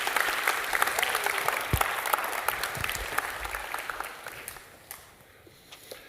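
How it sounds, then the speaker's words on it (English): A church congregation at a Sunday service applauding, strong continuous clapping with a few voices mixed in, tapering off over the final second or two. "Yeah, you can applaud."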